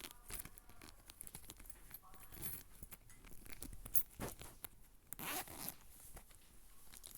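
A pencil case zipper is pulled open in short rasping runs, close and fairly quiet, mixed with crinkling and handling of the case and its contents, with a faint voice in the background.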